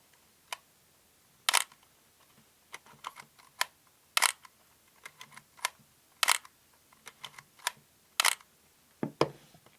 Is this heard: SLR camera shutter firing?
yes